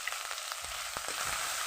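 Spices fry in a pan for a fish curry, giving a quiet, steady sizzle with a few soft scrapes from stirring.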